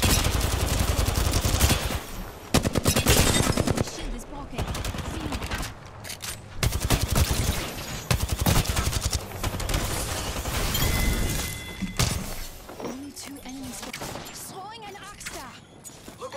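Rapid bursts of gunfire in the Apex Legends battle royale game, loud, close exchanges of automatic fire and sharp shots in repeated volleys, pausing briefly between clusters, with talking in the background.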